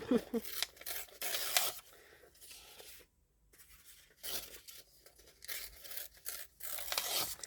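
Paper is torn by hand in several close, rough ripping bursts, with a brief quiet gap partway through.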